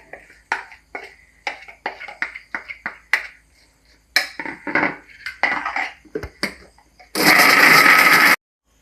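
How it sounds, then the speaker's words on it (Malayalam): A mixer grinder works shawai masala into a thick paste: a run of short clattering clicks and knocks, then the motor roars in one loud, steady burst of just over a second. "തിക്കായിട്ട് അരച്ചെടുക്കട്ടെ"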